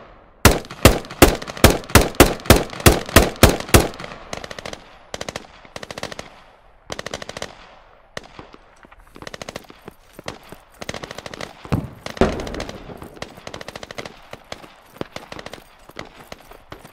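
Machine gun fire in the tactical shooter Squad on a river valley map, first a loud, evenly spaced burst of about ten close shots, then scattered irregular gunfire and distant shots continuing with no talk.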